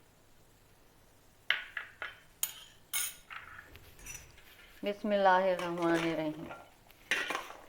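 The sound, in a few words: spoon mixing chana chaat in a bowl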